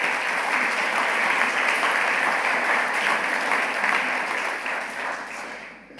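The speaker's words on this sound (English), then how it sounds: "Round of applause for them." An awards-ceremony audience applauds steadily, a dense, even wash of clapping that holds strong for several seconds before tapering off at the end.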